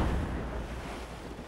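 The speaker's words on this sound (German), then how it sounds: "Der Wind gefällt mir nicht" Wind and waves at sea in the video game Assassin's Creed Rogue, a steady, loud roar of gusting wind and surf on the open water with no pauses.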